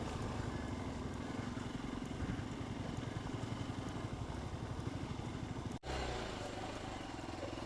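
A motorcycle creeps slowly along a bad, slippery village road, its engine a steady low drone with a rhythmic chug that holds at an even level throughout, briefly interrupted by a short cut near the end.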